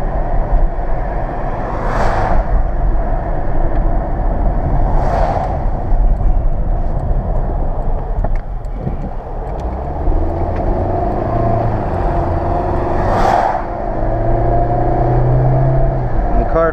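A 2005 Volkswagen Jetta four-door sedan accelerates, its engine rising in rising pitch sweeps from inside the cabin, with a steady road hum and a few faint brief tones.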